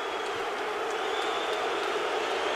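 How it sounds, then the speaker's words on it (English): A boisterous arena crowd at the Mayweather vs Hatton boxing fight roars in a dense, continuous wash of cheering, loud and sustained throughout. "This crowd is boisterous."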